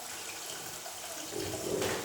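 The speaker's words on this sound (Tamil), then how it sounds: "இப்போ இதோட புளியை சேர்த்துப்போம்" Tamarind water for an onion tamarind kuzhambu is poured into a pan, a faint liquid pour and splash that swells toward the end of the short moment, with no talking.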